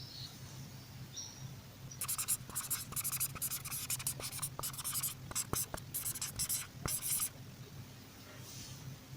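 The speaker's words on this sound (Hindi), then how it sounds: "तो चलिए फिर यहाँ पर हम लिख लेते हैं।" Pen or marker scratching out a math solution on a writing surface, with a burst of rapid writing strokes in the middle of the clip over a low steady hum, close and moderately loud.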